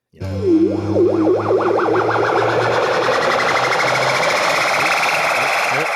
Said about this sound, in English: creating tones that would go from one place to another and ascend